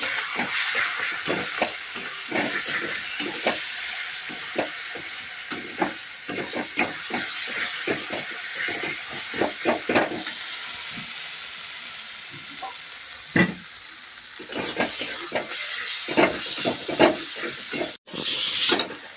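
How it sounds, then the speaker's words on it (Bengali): Spice paste with Kashmiri chili powder sizzles in a pan while a spoon stirs it in quick, repeated scrapes, and the hiss of frying swells and fades between the strokes. "এবার আমি মশলাটাকে খুব ভালো করে কষিয়ে নেব।"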